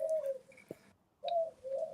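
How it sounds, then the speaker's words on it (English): Pet doves cooing in the background, soft low coo phrases repeating with a short pause in the middle, fairly faint and a little distant, with no one speaking over them. "You can hear my doves in the back."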